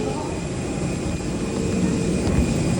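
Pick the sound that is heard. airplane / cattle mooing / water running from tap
airplane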